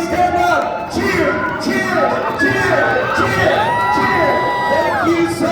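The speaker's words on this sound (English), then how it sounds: "Let's get everybody cheering up." A crowd at a fan convention panel cheers, whoops and shouts in repeated swells. High children's voices rise above the noise, and the cheering stays loud and close throughout.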